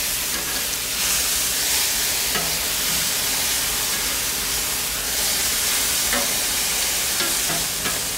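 Bagel sandwich ingredients frying on a Blackstone griddle over medium-low heat, a continuous dense sizzle with a few soft spatula scrapes and taps near the hot surface.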